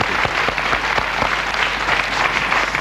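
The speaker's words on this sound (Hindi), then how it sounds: "एक बार फिर तालियों के साथ इनका अभिनंदन" Game show studio audience applauding a winning candidate: dense, sustained clapping from a large crowd, fairly loud and steady throughout, with no talking.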